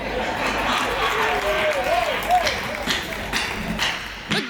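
Audience clapping at a Hindi comic poetry gathering, a steady wash of applause lasting several seconds with some murmuring voices, ending abruptly.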